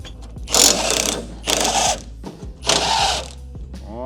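A ratchet loosens bolts on a car's 8HP gearbox in three close bursts of rapid clicking, separated by short pauses.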